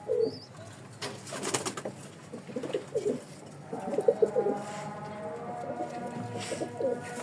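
Pigeons coo repeatedly in soft, throaty bursts, fairly close, over a busy background with occasional rustling.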